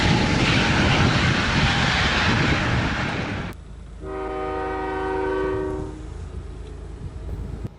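A CN freight train with a DPU locomotive trailing at the rear passes a crossing on a flat winter prairie line. It gives a loud, close rumble for several seconds, then cuts off to a quieter steady multi-tone horn-like chord.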